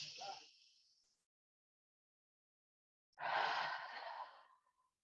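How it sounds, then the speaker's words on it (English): A deep expansion breath during a chi movement exercise: a short breathy exhale fades out, then after a silent pause a long, airy, close breath swells and tapers off, with no talk. "one expansion breath"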